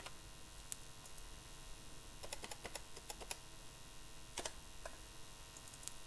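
Fingers tap out a VLOOKUP formula on a computer keyboard, sparse key clicks early, then a quicker burst of several keystrokes midway and a few more near the end, close and fairly quiet.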